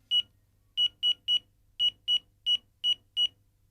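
A phone rings with short, shrill electronic beeps, about ten in uneven pairs and singles over a few seconds, loud and clear against near silence.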